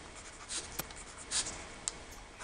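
Pen or pencil writing numbers onto a paper template for mitering pipe, with soft scratchy strokes and a few sharper taps spread over a couple of seconds, quiet and close.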